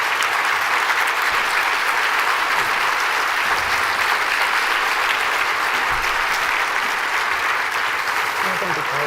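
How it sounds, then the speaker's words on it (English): Sustained applause from a crowd, dense and steady clapping throughout, with faint voices mixed in. "Let's give them a round of applause"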